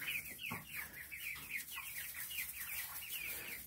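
American Bresse chickens cluck softly and repeatedly at a distance, a busy, continuous chorus of short clucks with no talk.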